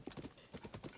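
Horse hooves clip-clopping in Zelda: Tears of the Kingdom, a steady run of close, fairly loud hoofbeats in a quick uneven rhythm over a dull ground, with no voices.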